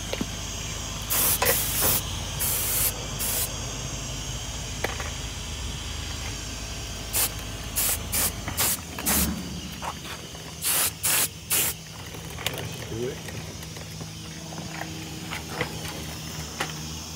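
Silicone spray hissing from an aerosol can onto a Traxxas X-Maxx RC monster truck, in several short bursts and longer sprays close up over a steady low background hum.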